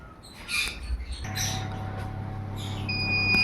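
A high, steady electronic alarm tone from an automatic egg incubator, set off by a drop in temperature, comes in partway through and keeps sounding alongside a low mechanical hum, with a few soft clunks before it.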